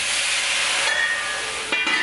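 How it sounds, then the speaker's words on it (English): Green beans steaming in a covered wok with a little added water give off a steady, close hiss that runs unbroken throughout, with a brief sharper crackle near the end. "I'm gonna cover the wok just so that they steam nicely"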